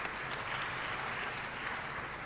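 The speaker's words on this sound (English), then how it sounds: "I'm happy you're clapping for me because it's been a journey." A seated audience claps continuously through a short burst at a talk about early intervention for children with disabilities, a dense, even applause at moderate distance.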